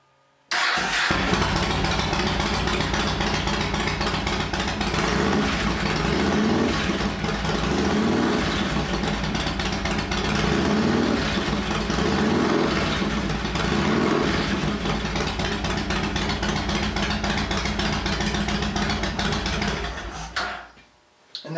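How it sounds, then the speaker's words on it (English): A Yamaha Road Star motorcycle fires up after an oil change and runs steadily for about twenty seconds, with several throttle blips rising over a loud, close idle before the engine shuts off abruptly. "rev it 3 or 4 times. It's going to let the oil that we just put in the oil tank be sucked up into the engine"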